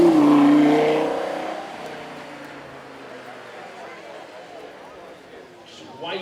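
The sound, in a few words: Lamborghini Huracán Tecnica 5.2 litre V10 engine revving on track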